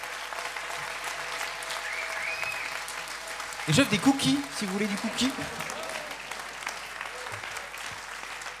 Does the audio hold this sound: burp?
no